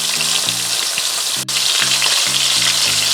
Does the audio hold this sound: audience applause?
no